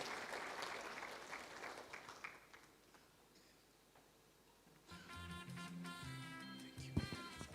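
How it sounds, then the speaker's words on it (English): An audience at the launch event of a Kenyan apple growers and exporters association applauds a speaker being welcomed to the stage. The clapping is moderately loud at first, thins out, and then gives way to louder background sound toward the end. "Let's give him a round of applause."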